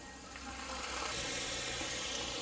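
Soy sauce poured into a hot pan with pork, onion and garlic sets off a soft sizzle that swells and holds steady at close range, no voices.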